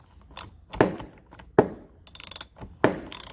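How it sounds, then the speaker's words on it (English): An old New Britain ratchet wrench working on a chainsaw tensioner, with several close, distinct clicking ratchet strokes followed by rapid short ratchet clicks, heard alone. "get it tight enough for it to have the friction for your ratchet wrench to work"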